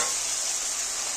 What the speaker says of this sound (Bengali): একটু সামান্য হলুদ গুঁড়ো দিয়ে আমি ভালো করে ভেজে নেবো আলুটাকে।